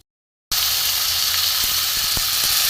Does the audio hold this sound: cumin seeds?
yes